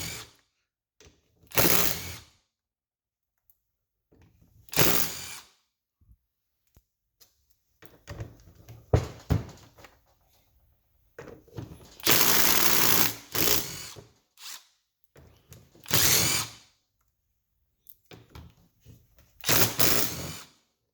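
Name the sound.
ratchet removing cover bolts on Yamaha Big Bear rear differential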